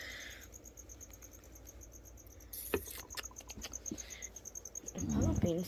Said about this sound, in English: As you can hear the crickets chirping in my room.